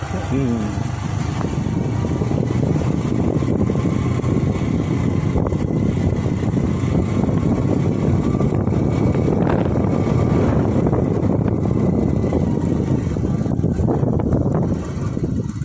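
A boat engine drones steadily throughout, with wind buffeting the microphone and faint voices mixed underneath.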